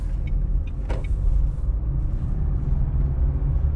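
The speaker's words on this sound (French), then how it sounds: "Je relève l'embrayage délicatement en accélérant." Manual car pulling away in first gear as the clutch comes up under acceleration, a steady low engine rumble heard from inside the cabin with a brief click near the start and no talk.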